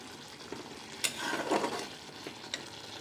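Spicy masala sautéing in a pot for bottle gourd curry, a soft background sizzle broken by scraping stirs and a few sharp ladle knocks against the pot.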